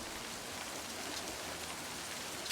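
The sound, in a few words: rain sounds in the video game Livber: Smoke & Mirrors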